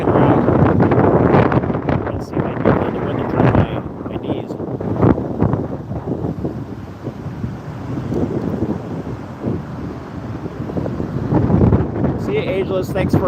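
Wind gusts across a Florida beach and buffets the microphone in a steady roar, with a person talking over it.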